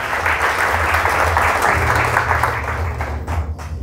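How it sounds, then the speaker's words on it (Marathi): Loud, sustained applause from a church congregation at a sermon, dense continuous clapping that fades toward the end. "या जोरदार टाळ्या वाजू त्या परमेश्वरासाठी."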